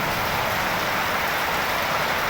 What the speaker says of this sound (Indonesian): Dapatnya hujan, labat banar.